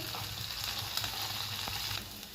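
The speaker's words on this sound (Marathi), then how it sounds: "मोठ्या आचेवर आता हे रंग बदलेपर्यंत बटाट्याचे कापे परतून घ्यायचे" Boiled potato slices frying in oil over a high flame, a dense continuous sizzle with a few faint scrapes, close and steady, fading slightly at the end.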